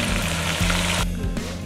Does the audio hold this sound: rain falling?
no